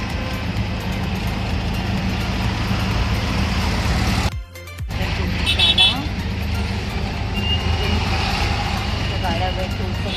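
Road traffic and wind rumble steadily around a vehicle travelling to the large Vashi APMC vegetable and fruit market. A dense, continuous low roar breaks off briefly in the middle, and a person talks over it.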